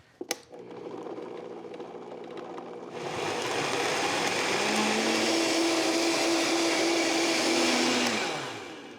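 A blender purees mole coloradito sauce, starting at a low hum and jumping to a loud, steady, close whir that holds for several seconds, pitch shifting slightly as it churns, then spinning down at the end.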